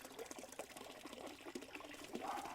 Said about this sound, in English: Yeah, the fountain running nicely.